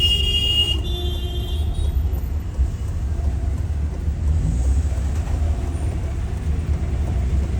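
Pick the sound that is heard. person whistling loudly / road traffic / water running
road traffic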